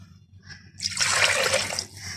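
Broth is poured from a bowl onto okra and lamb sauce, a close splashing gush of liquid that starts after a short quiet moment and runs steadily for over a second, with no talking.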